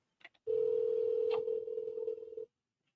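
A telephone dial tone sounds steadily for about two seconds after a few short clicks, loud and alone, with no talking.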